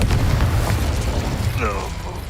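Hogwarts Legacy's Confringo explosion spell bursts loudly with a deep, rumbling boom that fills the whole moment, and a player's shouted voice is heard over it.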